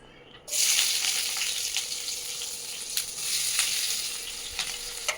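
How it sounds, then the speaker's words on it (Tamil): Onions hitting hot oil in a pan burst into a loud, steady sizzle that starts abruptly and continues close up, with faint stirring clinks. "எண்ணெய் காஞ்சிருச்சு, இப்போ நம்ம வெங்காயம் போட்டுக்கலாம்."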